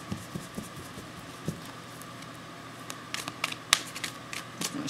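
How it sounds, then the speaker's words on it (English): Soft papery shuffling of a tarot deck, light flicks and pattering riffles close up, quiet at first then a busier burst of card snaps near the end, with no talking over it. "Shuffle them up a little bit like this, and then cut them and lay the spread."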